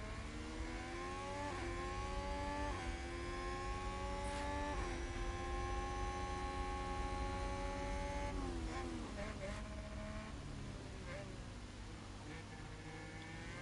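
An F1 car slowing under braking in the F1 Manager 22 racing game at Montreal: a loud, continuous engine whine that drops in pitch in steps as gears shift down, with race commentary audible under the engine.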